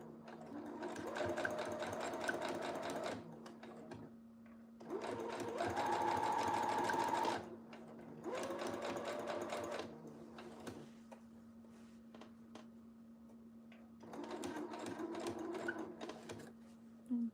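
Sewing machine stitching in several bursts of a few seconds each, with pauses between, running steadily at close range with a constant low hum underneath; no talk over the stitching.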